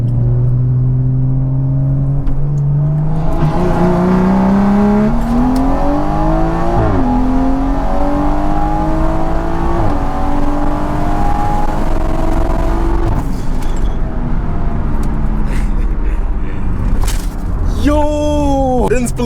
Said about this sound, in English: Let's get an anti-lag roll onto the highway.